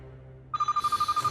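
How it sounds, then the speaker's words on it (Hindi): A telephone starts ringing halfway through, a fast pulsing electronic ring of about ten rapid beats, loud and close, following a quiet moment in a tense film scene. "अर्जुन का ही फोन होगा। हम जिंदा है या मर गए ये जानने के लिए फोन किया होगा उसने। उठा उठा।"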